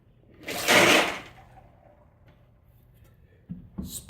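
Hot molten lead dumped from a pot into water, a single loud hissing burst of sizzle and splash that fades quickly, followed by quiet and a few faint clunks.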